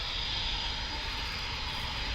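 Aircraft taxiing at RAF Coningsby airfield give a steady, continuous engine roar that holds at an even level from a moderate distance, with no voices.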